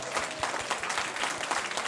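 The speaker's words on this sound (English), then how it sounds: "Let's give them another round of applause" Audience applause at a Chinatown Lions Club scholarship gala, a dense, even round of many hands clapping, steady and fairly loud with some rhythmic clap accents.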